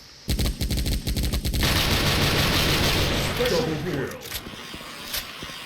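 Loud, rapid bursts of gunfire in a zombie-shooting video game, a fast string of sharp shots followed by a dense sustained roar of firing that tapers off near the end.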